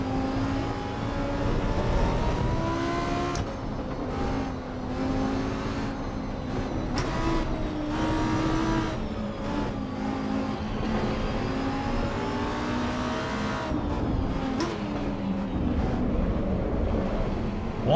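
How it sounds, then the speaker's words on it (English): A race car engine in Assetto Corsa EVO revs and drones loudly with shifting pitch, the tone rising and falling through several gear changes and brief lifts across the run, with no talking. "Sounds like an ACC car."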